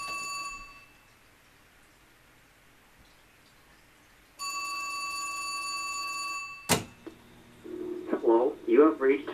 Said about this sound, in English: You hear my phone's ring? This is set for a 4-ring delay.